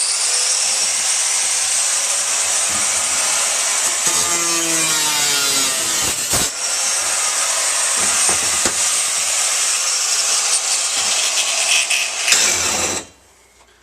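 Cutting disc trimming steel for a Harley air filter cover, a loud continuous grinding hiss with brief dips and pitch sweeps that stops abruptly at the end.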